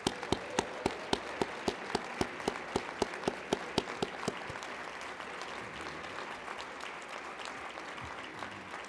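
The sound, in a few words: audience applause at an awards ceremony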